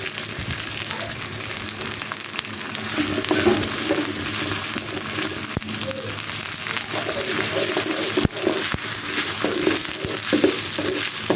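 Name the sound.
ginger and garlic paste frying for khichuri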